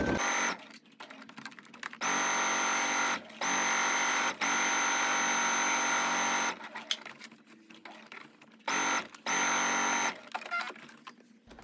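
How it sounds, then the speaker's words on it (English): A sewing machine stitching fabric collars together, running in several bursts of steady mechanical whirring with short quiet pauses between runs, close and fairly loud, with no talk. "take this to your sewing machine and stitch the collars together"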